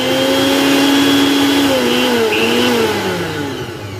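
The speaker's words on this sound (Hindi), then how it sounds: "तो फ्रेंड्स आप देख सकते हैं अपना मिक्सर ग्राइंडर चल गया है।" A mixer grinder whirs steadily after being switched on, its motor holding a loud, sustained whine with a slight shift in pitch partway through, with no talking over it.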